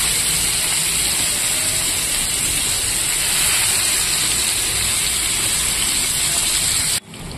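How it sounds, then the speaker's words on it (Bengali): Fish fries in hot oil in a frying pan, giving a dense, loud, continuous sizzle like heavy rain that holds steady for about seven seconds before cutting off abruptly; no talking is heard. "তো আমি এই তেলেই ভেজে নেব মাছ"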